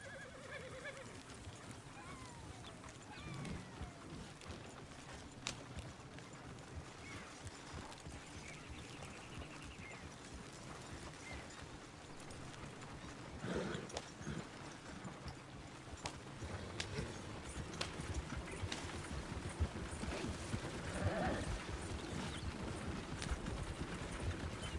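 Horse hooves trot steadily beneath loud whinnies and neighs in the Red Dead Redemption 2 game world. The ambient rumble and clatter carry on throughout, with faint game voices in the background.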